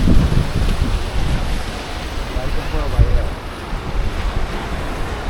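Waves breaking on the sandy shore of a river char, with a steady rushing wash and heavy wind buffeting close to the microphone throughout.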